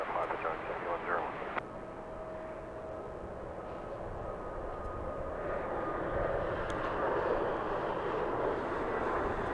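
A jet aircraft taking off from runway 25 Left at Los Angeles airport produces a broad, distant engine roar that swells gradually, under air-traffic radio chatter.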